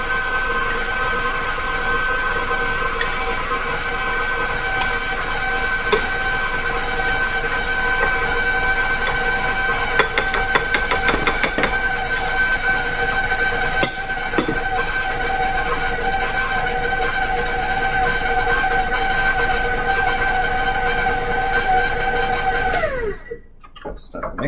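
A stand mixer beats flour into cinnamon butter cookie dough, a steady close motor whine with a whirring tone running for about twenty seconds before it winds down and stops.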